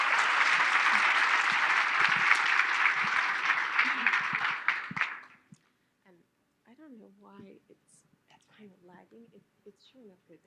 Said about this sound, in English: So please, everybody, give an applause for Elaina.